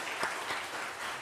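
Brief, fairly faint clapping from a church congregation, a short burst of scattered hand claps lasting just over a second.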